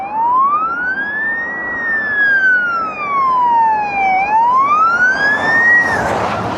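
A passing emergency vehicle's siren wails loud and close, sweeping up, down and up again before its pitch drops away as it goes by over road noise.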